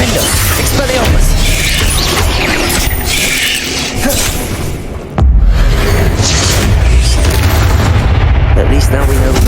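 Spell blasts and explosions in Hogwarts Legacy, Incendio and Bombarda, burst loudly and repeatedly amid a constant din of combat effects, with a sharp impact near the middle and voices speaking over the fighting.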